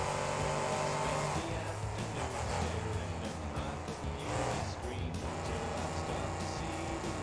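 Monster truck in a freestyle competition at NRG Stadium, its engine roaring loudly and continuously as the truck turns around and heads for a bus stack, with a commentator talking over it.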